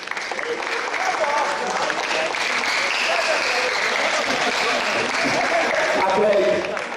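An audience claps heartily for a guest expert at a University of Lagos DLI seminar in 2015; a full, sustained burst of many hands, loud and even, with some voices mixed in and a slight swell near the end.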